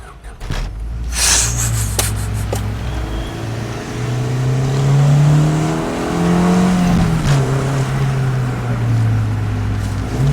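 A 1998 Honda Integra Type R with a Mugen exhaust cranks briefly, fires and settles into a steady, throaty idle. The idle holds up close and loud, with a slight rise in revs partway through.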